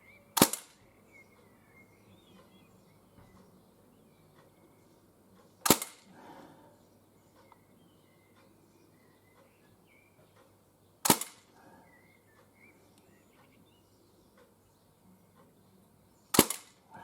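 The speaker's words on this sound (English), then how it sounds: "So here we go, 5 shots at the 10-yard target." A Swiss Arms Uzi airsoft gun fires four sharp, isolated snapping shots at an outdoor 10-yard target, spaced about five seconds apart, each a crisp crack with short decay over a quiet background.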